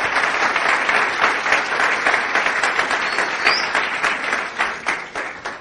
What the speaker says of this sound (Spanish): para los cuales le pido un fuerte aplauso